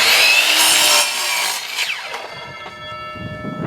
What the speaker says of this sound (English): Then after I get this split to the right thickness, then I just cut them on the chop saw.